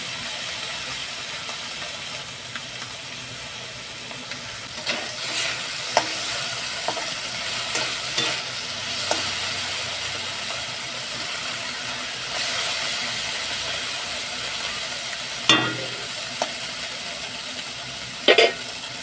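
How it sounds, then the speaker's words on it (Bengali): Small fish fry and get turned in a pan over a low-medium flame, a continuous close sizzle broken by scattered scraping knocks of the turning utensil. "উল্টে পাল্টে ভেজে নেব"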